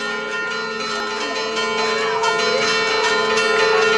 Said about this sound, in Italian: suono delle campane un po' scordinate.